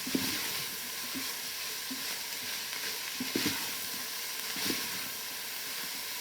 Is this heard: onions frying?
yes